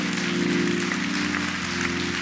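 A church congregation claps hands in praise during a sermon, a steady, dense wash of clapping that carries on evenly over a low sustained musical tone.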